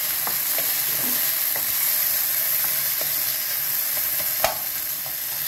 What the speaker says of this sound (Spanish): Y vamos a echar el ají de la sol. Esto va a ir sofriendo.